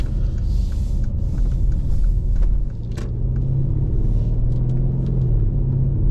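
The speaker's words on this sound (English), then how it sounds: "I don't know if you hear that noise there, but we're literally doing no speed at all here, 30 mile an hour." A Mercedes V8 car cruising at about 30 mph, a loud, steady low engine and road rumble heard from inside the cabin, continuous with no talking.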